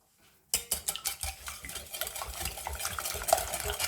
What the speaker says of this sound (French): Donc on va fouetter jusqu'à ce que le sucre soit totalement dissous.